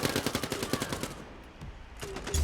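Rapid SMG fire in the arena shooter Quake Champions, heard as a fast, steady burst of shots that stops after about a second, followed by quieter game sounds and another short burst.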